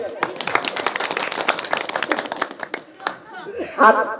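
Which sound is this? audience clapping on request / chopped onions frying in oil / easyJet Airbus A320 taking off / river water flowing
audience clapping on request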